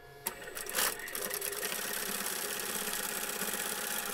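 Sewing machine stitching a fabric pencil-shaped pouch with a quarter-inch seam allowance, running in a steady continuous whir after a couple of brief starting clicks, close and fairly loud, with no talking.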